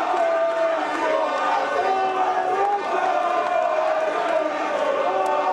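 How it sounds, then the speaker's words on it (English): A large, excited crowd roars and chants continuously at a boxing weigh-in for Anthony Joshua versus Francis Ngannou, with dense, sustained crowd noise and voices blending throughout at steady loudness. "What a crowd over here."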